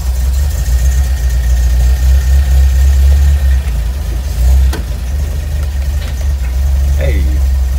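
A Volvo Amazon with a freshly restored B20 engine barely idles after its first start, a loud low rumble running steadily throughout with people talking over it.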